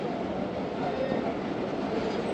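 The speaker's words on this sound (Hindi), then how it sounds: "लोको है हमारी ट्रेन के साथ 9051 और ड्राइवर है नासिर महमूद साहब।" The Khyber Mail passenger train, hauled by locomotive 9051, rolls along with a steady, loud rumble and hiss of wheels on rails, continuous and close, with no talk.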